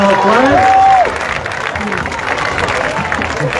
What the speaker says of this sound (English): Let's give a big round of applause to all of our homecoming royalty as they are exiting the field